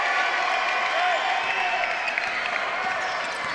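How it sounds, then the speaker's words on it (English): Crowd applause in a college basketball gym during a men's game between Augusta and Georgia College at Centennial-era Christenberry Fieldhouse, steady and loud throughout with cheering mixed in and a commentator's voice faintly under it. "Everybody in the gym should stand up and give him a hand."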